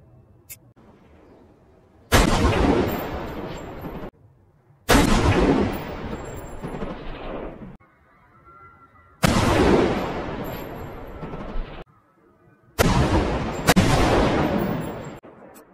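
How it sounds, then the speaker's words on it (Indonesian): Four loud, sharp sniper rifle shots fired at random, each a sudden blast followed by a long, fading echo, spaced a few seconds apart with near silence between them. "Tanpa alasan yang jelas, ia mulai menembakkan senjatanya secara acak"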